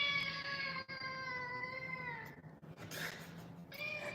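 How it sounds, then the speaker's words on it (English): A house cat meows in long, drawn-out, whiny cries close by, one extended wail followed by a shorter one, with no one talking over them. "That's a cat. That is a cat."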